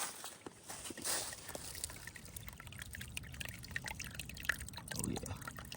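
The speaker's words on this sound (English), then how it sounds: "Got a nice little water source coming right out of the moss and rocks." Spring water trickles out of moss and rocks beside the Appalachian Trail, a quiet, close, steady dribble and splash with no voices.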